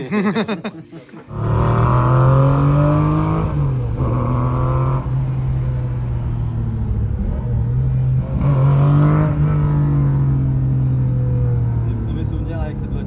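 Porsche 996 GT3 sports cars running on a race circuit, a loud steady engine drone with a rising rev near the start and again later, a voice talking over it.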